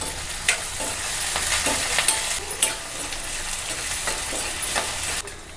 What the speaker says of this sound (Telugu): ఒక మీడియం సైజు ఆనియను సన్నగా కట్ చేసి వేసుకోవాలి ఒక రెండు పచ్చిమిర్చి వేసుకోవాలి ఇవి మంచిగా ఫ్రై చేసుకోవాలి